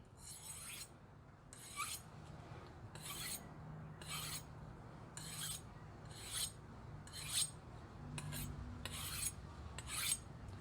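A knife edge is drawn repeatedly along the coarse ribbed side of a honing rod, giving about ten short, evenly spaced rasping strokes, each a bright scrape over a low background hum.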